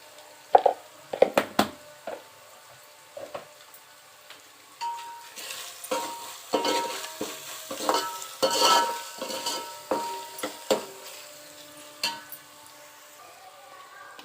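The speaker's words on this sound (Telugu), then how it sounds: "ఇది అల్లం వెల్లుల్లి పేస్ట్ పచ్చివాసన పోయే వరకు వేయించుకోవాలి." Ginger garlic paste fries with turmeric in a pan: a soft sizzle under repeated bursts of spatula stirring and scraping that grow busier midway, with no speech.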